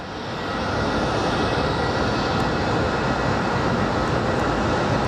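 Mesa Airlines airliner at Phoenix Sky Harbor airport, engine noise swelling in over the first half second and then holding as a loud, steady broadband roar.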